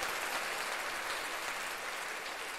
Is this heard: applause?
yes